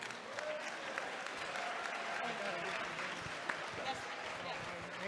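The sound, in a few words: audience clapping at a town hall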